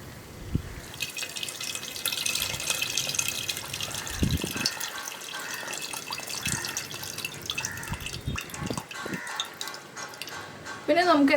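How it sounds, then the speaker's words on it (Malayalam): Water being poured into a pot of lentil rasam (parippu rasam) while cooking, a steady liquid pouring and dripping sound with intermittent splashes and clinks, fairly close, lasting throughout. "നമുക്ക് എത്ര ഗ്രേവി വേണം എന്നുള്ളതനുസരിച്ച് കുറച്ചും കൂടി വെള്ളം ചേർത്ത് കൊടുക്കാം"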